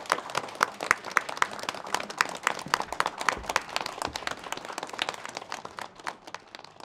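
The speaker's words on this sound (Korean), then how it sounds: "박수 쳐요" An audience claps steadily at a formal lecture event, many hands producing a dense, continuous patter of applause that stays fairly even throughout.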